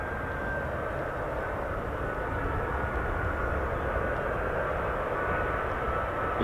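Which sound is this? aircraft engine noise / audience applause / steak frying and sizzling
aircraft engine noise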